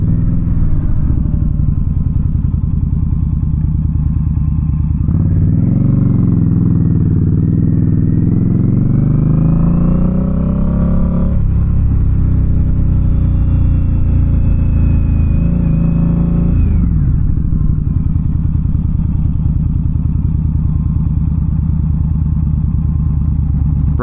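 An Indian Scout Bobber Sixty motorcycle on a ride, its engine drumming loud and steady throughout, with the pitch rising and falling as it revs up and shifts through the gears.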